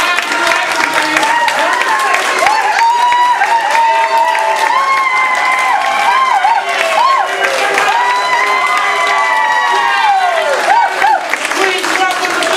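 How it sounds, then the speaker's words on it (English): Improv comedy audience clapping and cheering loudly and steadily throughout, with whoops and excited shouts riding over dense applause. "Number 4, we're getting louder. Number 5, you like the thing."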